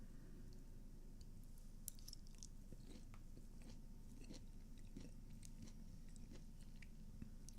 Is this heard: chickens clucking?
no